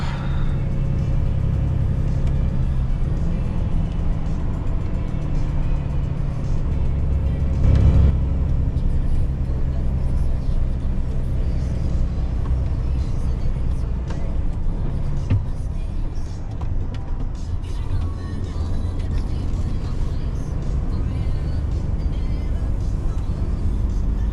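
A 44-tonne HGV truck grinds up a snowy hill, its heavy diesel engine rumbling in a sustained low drone heard from the cab, with a brief thump midway.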